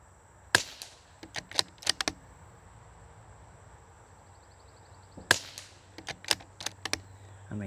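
Suppressed .22 rifle fired outdoors in two quick strings of sharp, muted cracks, each group several shots in fast succession separated by a few seconds of quiet wind, with no talking.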